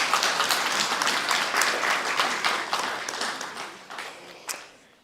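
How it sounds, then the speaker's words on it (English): Applause from the audience at a guide dog graduation ceremony, a steady wash of many hands clapping that gradually fades away over about five seconds. "how about a round of applause?"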